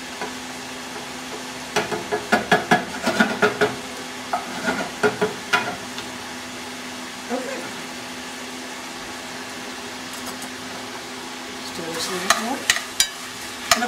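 Meat for a risotto browning in a pan and stirred with a slotted spoon, giving a steady sizzle broken by clusters of sharp metal clicks and scrapes.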